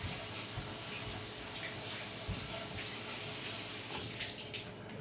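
Tap water runs steadily into a sink while something is rinsed under the stream during whoopie pie making, a continuous close splashing hiss with a few small knocks and no talk.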